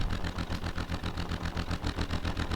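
A vehicle engine running in the video game Fishton, a steady close mid-pitched rumble with a regular pulsing beat, no talking.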